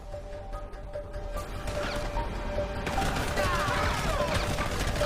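Gunfire aimed at the undead in a game battle scene: a dense, continuous clatter of shots and crashing impacts under a steady din, with voices mixed in.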